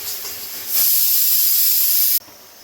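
Poppy seeds frying in oil in a pan for Bengali aloo posto, a quiet hiss that suddenly swells into a loud, steady sizzle for about a second and a half, then drops back abruptly.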